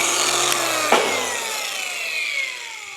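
A cutting disc bites through aluminium with a harsh, high whine that shifts pitch as the cut progresses, close and loud, with no talking.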